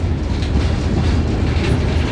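A train rolls along the Colorado and Southern Highline, a 14-mile mountain railway stretch, with a loud, steady rumble and faint rhythmic wheel clatter throughout, no talking.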